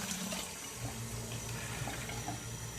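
Tap water runs steadily into a smoothie blender jar, a continuous splashing pour at close range with no talking.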